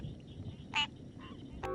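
Black-eyed leaf frog calling in a moist forest, a short nasal horn-like toot followed by a fainter echoing note and a brief buzzy burst at the end, each isolated against quiet background hiss.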